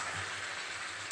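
Spicy chicken marinated in sour yogurt cooking on high flame, releasing oil in the pan with a steady, faint sizzle and crackle throughout.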